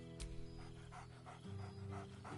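A dog companion in Baldur's Gate 3 pants steadily with soft whining tones, breathy rhythmic puffs repeating close up against a low game music bed.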